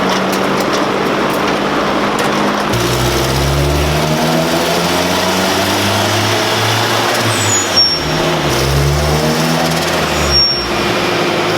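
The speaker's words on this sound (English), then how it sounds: "It's so cool because you hear wastegate and flutter." A turbocharged Honda Civic EG engine hums and surges steadily on a dyno, with fluttering chirps and hissy wastegate and blow-off bursts as it lifts off the throttle.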